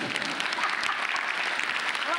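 Audience applause at a question-and-answer session, a dense, steady wash of many hands clapping that holds at even loudness for the whole stretch, with a voice faintly audible underneath.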